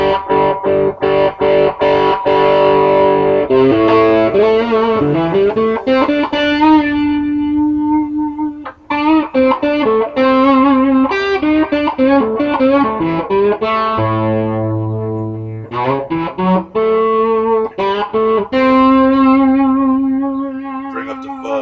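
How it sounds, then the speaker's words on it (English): Electric guitar played through a fuzz distortion pedal with a blend control, sustained distorted notes and chords ringing loud and close for the whole stretch, with brief pauses between phrases. "Or blend out however much distortion as you want."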